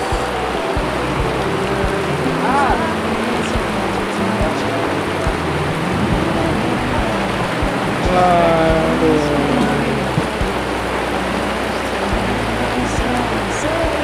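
Heavy rain pours steadily outdoors at a catfish fishing pond, a dense continuous wash of noise that swells slightly as it intensifies, with a brief voice exclaiming once over it.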